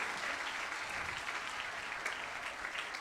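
Church congregation applauding during a Holy Communion service, a steady unbroken wash of many hands clapping at moderate distance, with no voices over it.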